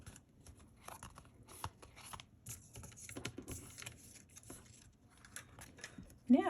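Scissors snip off the paper overhang around a 5x7 card, giving a series of soft, close crisp cuts and rustles with a louder handling noise at the end.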